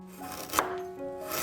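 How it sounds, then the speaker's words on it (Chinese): Two sharp knife strikes through raw beef on a board as it is cut into chunks, spaced about a second apart, close and distinct with no talking. "再切成和土豆块差不多大小的肉块。"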